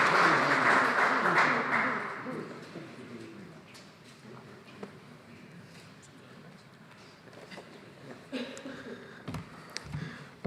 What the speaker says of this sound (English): And I want to hear some applause.